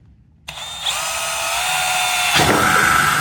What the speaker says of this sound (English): I'm gonna drill the hole right next to your finger.